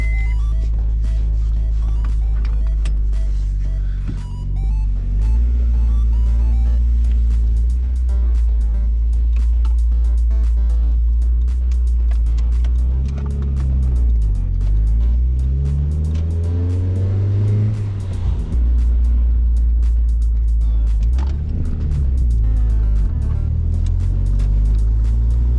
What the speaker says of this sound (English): we're just going to take the Lude for a spin around the block